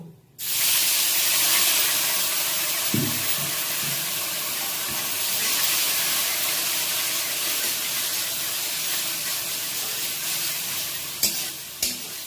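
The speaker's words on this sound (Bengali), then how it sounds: "এবার একটু জল দেব।" Water poured into a hot pan of potato filling bursts into a loud, close hiss and sizzle that starts suddenly and stays steady, with light stirring scrapes near the end and no talk.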